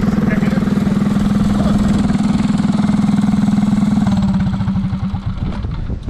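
Small motorized cooler go-kart engine running steadily at idle, a loud, close buzzing drone with a rapid pulsing rhythm that roughens and falters near the end.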